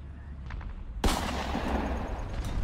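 A tank cannon fires in War Thunder, one sudden loud blast partway through, followed by a rumbling decay with engine and battle noise.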